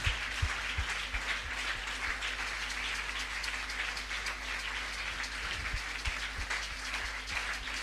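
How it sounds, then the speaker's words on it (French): A church congregation at a Sunday service applauds in a steady, dense, rain-like wash of clapping that holds for several seconds over a low hum. "On acclame très fort le roi des rois."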